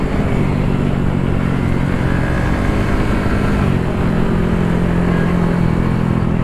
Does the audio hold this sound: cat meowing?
no